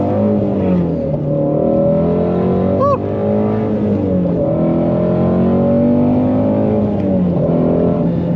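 A Ford Mustang Shelby GT350R Heritage edition accelerates through short-shifted gears, its loud close engine note rising and dropping across several shifts, with a brief whoop from the driver.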